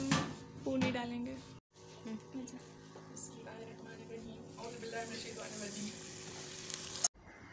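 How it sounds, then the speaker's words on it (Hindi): Puri dough frying in a pan of hot oil while preparing halwa puri with chickpeas, a steady close sizzle with brief breaks and clatter, under a voice talking. "गर्मा गर्म ऑयल में पूरी हमने डाल दी है"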